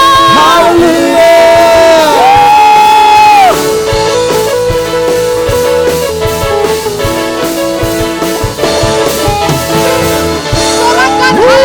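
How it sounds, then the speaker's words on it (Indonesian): A church congregation in Indonesia shouts hallelujah together in a loud, sustained crowd roar over live worship music with bright sustained tones and rhythmic backing. "Sorakan haleluya."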